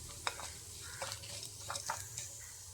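Dried red chili frying in hot oil for a Kerala karkkidaka thoran, a faint, soft crackle and sizzle with scattered light pops and stirring scrapes.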